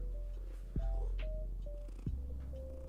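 A domestic cat purrs close up in a quiet room, a soft steady rumble with two brief louder bumps of movement and a faint tonal hum behind.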